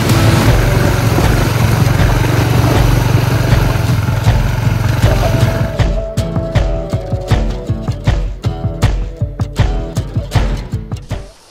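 A Honda ADV160 ABS scooter on an outdoor test ride: a loud, steady engine and road roar fills the first six seconds, then gives way to a rapid run of sharp clicking or knocking transients, close and fairly loud.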